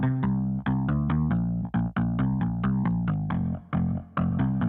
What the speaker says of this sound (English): A little bit of reverb.